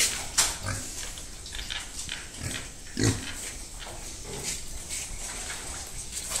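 Pigs in a pen at a farm smallholding grunt and squeal at feeding time on whey, with scattered sharp squeals over a constant background of snuffling and shuffling, up close.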